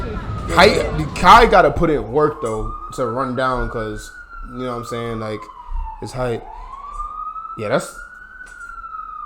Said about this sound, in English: Oh, yeah, that's the ambulance right there.